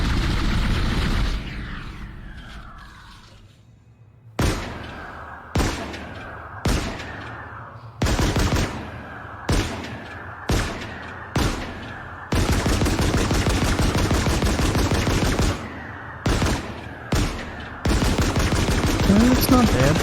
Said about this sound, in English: I like the reload sounds more than the firing.